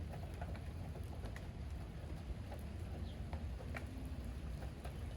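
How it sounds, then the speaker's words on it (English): Light rain beginning to fall outdoors, a steady soft patter of scattered drops over a low continuous rumble, faint and even throughout. "it is starting to rain."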